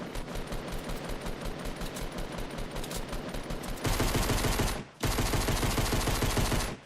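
Rapid automatic gunfire in the video game Fortnite crackles loud and continuous, growing denser partway through, then stops for a brief gap before resuming, with no talking.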